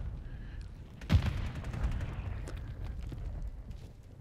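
A single hip-fired shot from an STG-44 assault rifle in a video game bursts out loudly, then a booming tail slowly rolls away beneath quieter ambient rumble.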